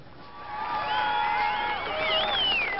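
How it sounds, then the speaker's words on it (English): Enthusiastic crowd cheering at a 1996 Canada vs Uruguay football match, a steady wash of voices and whistles throughout, with rising shrill whistling tones near the end. "Well, an enthusiastic crowd."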